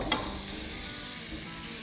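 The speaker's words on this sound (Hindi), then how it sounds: "और इसको भूनेंगे।" Eggs are fried and stirred in masala for egg korma over low heat. A soft, even sizzle continues throughout, with one brief scrape near the start. It is fairly quiet and close.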